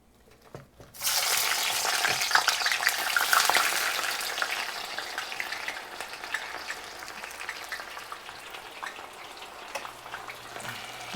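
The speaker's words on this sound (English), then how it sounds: "I'm gonna go ahead and add my onions." Onions dropped into hot grease burst into a loud, dense sizzle after a second of quiet, then crackle steadily and ease slightly as they fry, with no talking.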